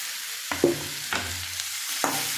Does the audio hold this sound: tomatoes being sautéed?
yes